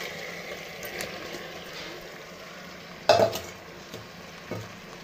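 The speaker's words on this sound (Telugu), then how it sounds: "ఇది 5 లేదా 6 నిమిషాలు ఇందులో బాగా ఫ్రై అవ్వాలి।" Mutton liver frying in a pan for curry, a soft, steady sizzle underneath occasional stirring scrapes and one louder clink of a utensil against the pan, close and moderately quiet.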